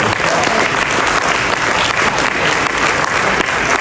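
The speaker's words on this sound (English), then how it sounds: "So applause for all of us." A large interview audience breaks into loud, sustained applause, a thick continuous wash of clapping from many people throughout.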